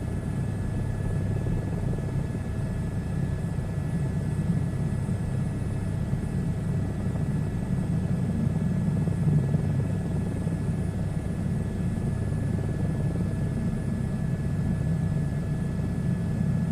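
A helicopter in a VR flight simulator flies steadily over valleys crossed by power lines, its rotor and engine making a continuous low droning rumble that stays close and even throughout with no voices.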